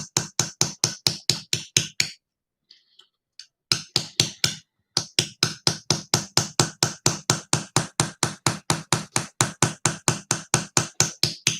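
A safety edge chisel is struck steadily while carving away background in horimono woodwork, giving a long series of sharp, evenly spaced close taps that stop briefly for a few faint knocks before resuming.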